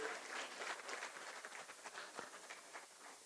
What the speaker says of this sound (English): Big round of applause to the First Lady of Liberia.